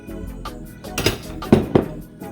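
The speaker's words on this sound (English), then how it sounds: "just kind of give this a nice little light whisk" A metal whisk clinks and scrapes against a mixing bowl while dry cake ingredients are lightly stirred, a few sharp taps standing out among softer rattling, close and clear.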